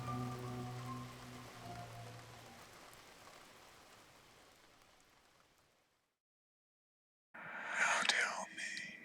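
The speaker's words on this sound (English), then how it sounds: "can you hear the rain?" Steady rain falling and pattering on surfaces, a dense continuous hiss that gradually fades out into silence, followed by a short burst of other noise near the end.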